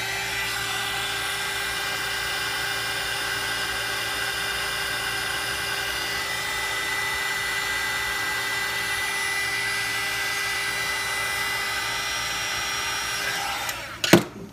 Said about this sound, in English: quadcopter hairdryer